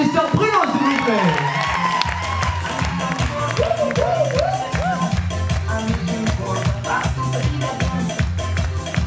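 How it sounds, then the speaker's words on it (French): A holiday resort crowd at a zumba instructors and entertainers presentation in Turkey claps and cheers loudly and steadily for a performer, with whoops and a music beat running underneath. "on peut l'applaudir bien fort si vous applaudissez Mister Bruno"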